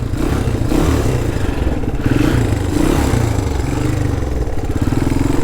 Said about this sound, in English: so we're away on the XL200R